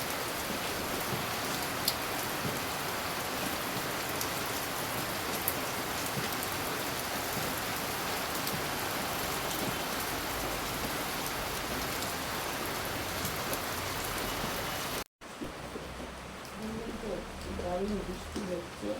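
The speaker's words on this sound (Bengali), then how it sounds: "দারুণ বৃষ্টি হচ্ছে, ঠান্ডা ঠান্ডা ওয়েদারে ইচ্ছা করে বলুন" Heavy rain pouring steadily on a rainy morning, a dense, loud, continuous hiss that stops abruptly near the end, leaving quieter ambience with faint bird coos.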